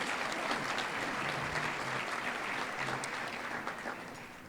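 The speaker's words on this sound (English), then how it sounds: "Another round of applause for Impact 100." Sustained applause from an audience at a National Philanthropy Day awards ceremony, a dense, even wash of clapping that holds steady and begins to fade toward the end.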